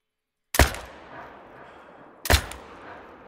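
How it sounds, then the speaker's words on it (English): Two loud .308 rifle gunshots fired at a Cape buffalo outdoors, sharp cracks about two seconds apart, each trailing off in a short echo, with no talking. "And we shot him with the 308"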